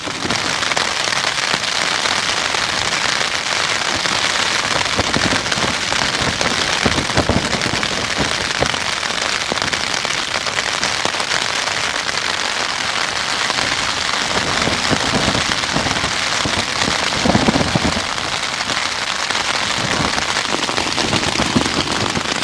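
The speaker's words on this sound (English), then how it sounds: "It's light raining now, hopefully it gets a bit heavier" Steady rain patters densely on a tent up in the hills during a storm, with a continuous hiss and scattered sharper drops, loud and close, no voices.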